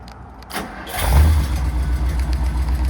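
A 1956 Ford Thunderbird cranks briefly and fires up, then settles into a loud, low, rumbling idle close by.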